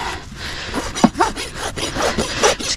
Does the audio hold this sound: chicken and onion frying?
no